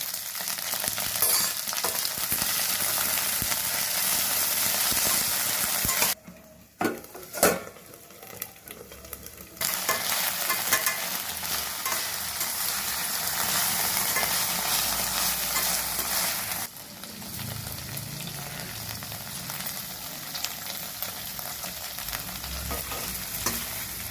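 Okra and prawn pieces fry in hot oil, a steady close sizzle with stirring, briefly quieting mid-way before the frying resumes loudly.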